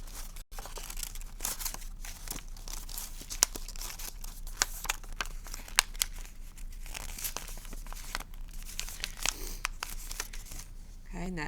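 Paper being folded and creased into an origami box, a continuous close crinkling and rustling with sharp little crackles throughout.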